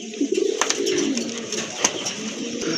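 Lively pigeons kept for sale coo steadily and close by, the low rolling calls mixed with scattered sharp clicks and shuffling.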